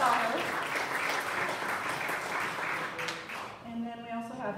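Audience applause at a Suicide Prevention Day event in a Capitol room, steady dense clapping from many hands filling the room, fading as a speaker's voice begins near the end.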